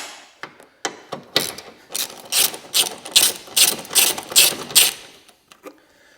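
A hand ratchet undoes small 10mm bolts on the front bumper of an MG ZS 180 car, giving sharp clicks that speed into a run of loud rhythmic ratcheting bursts before slowing to a few last clicks, close up.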